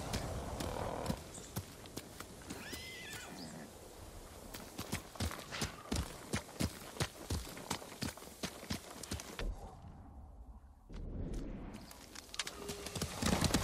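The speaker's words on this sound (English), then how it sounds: "Good horse, Kage." Horse hooves clip-clop in the samurai video game Ghost of Tsushima, a quick regular trotting rhythm of crisp near strikes that dips quiet briefly near the end before rising again.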